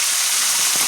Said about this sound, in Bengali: সুন্দর করে মাছগুলো ভাজা করে নেব।